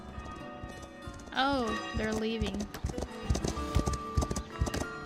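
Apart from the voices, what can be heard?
horse clip-clopping in a video game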